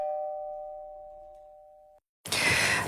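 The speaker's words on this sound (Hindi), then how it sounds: "पर उसी वक्त घर की डोरबेल बज पड़ी।" House doorbell ringing with a sustained electronic chime tone that fades for two seconds, then cuts to silence before a burst of dramatic music and noise.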